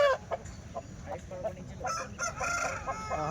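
Native chickens and roosters at a busy weekly poultry market, with roosters crowing and hens clucking in overlapping bursts close by, over low crowd murmur.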